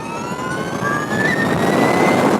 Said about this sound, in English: acceleration of this bike is insane